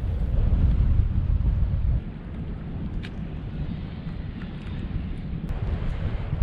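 Strong wind during snowfall at a harbor rumbles and rushes against the microphone, loud at first and then easing slightly into a steady low roar.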